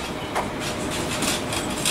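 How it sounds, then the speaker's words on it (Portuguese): A train runs through a Sydney railway station, a steady loud rumble with rail clatter and rattling carriages filling the scene close by. "E agora a gente vai pegar o trem pra City."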